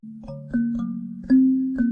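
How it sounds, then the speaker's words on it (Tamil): A phone rings with a short electronic tune: rising and stepping tones repeat in quick succession, clear and close. "ஃபோன் அடிக்கா"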